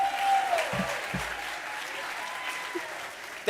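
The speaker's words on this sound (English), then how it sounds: "One final round of applause" Applause from a group at a Georgetown Law celebration event, fairly loud at first and then settling into a steady patter, with a couple of brief thumps partway through.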